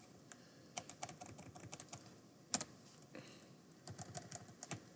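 Close, quiet keystrokes on a computer keyboard as Arduino code is typed, coming in uneven bursts of rapid taps separated by short pauses, with one louder clack midway and no talk.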